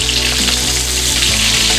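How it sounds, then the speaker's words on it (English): Butter-basted pork chop frying in a pan, a loud, steady close-up sizzle and crackle running continuously with no talk. "You hear something frying in the background."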